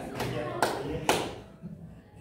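A child claps three times in a classroom timing exercise, sharp single claps spaced about half a second apart, followed by a quieter room with faint background voices.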